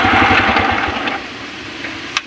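A motorcycle engine idles with a rapid, even putter that fades out after about a second as it is switched off, leaving quiet background and a brief click near the end.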